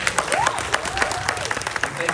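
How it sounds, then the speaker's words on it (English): A live Q&A audience with Ranbir Kapoor and Nitesh Tiwari applauds in a brief burst of mid-distance clapping, while a voice talks over it throughout. "let's give one more great round of applause for our lovely"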